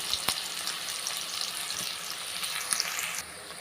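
Finely chopped onions hit a hot pan for pasta, giving a continuous close crackling sizzle with a few louder pops and spatters throughout.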